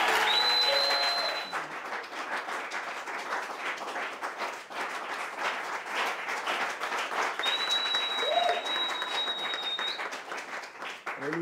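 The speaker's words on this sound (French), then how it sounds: "Levez-vous et acclamez cet homme de Dieu-là." A church congregation rises and applauds a man of God with steady, sustained clapping that fills the room for about eleven seconds, with a few whistles over the applause.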